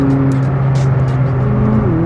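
A McLaren 600LT sports car with a twin-turbo 3.8-liter V8 pulls hard under acceleration, its engine a steady, loud, sustained drone with a shifting pitch and no talking.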